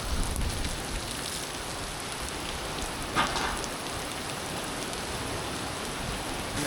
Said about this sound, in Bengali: প্রচণ্ড রকম বৃষ্টি শুরু হয়েছে